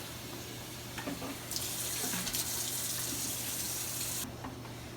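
Tap water runs into a Bissell carpet cleaner bucket during rinsing, a soft background trickle swelling into a loud steady gush for a few seconds before cutting back down.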